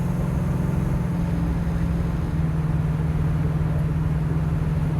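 A classic Ford Mustang, on its first drive in over 40 years, cruises straight down the road with a steady low engine drone and road rumble, moderately loud and unbroken, with no talking.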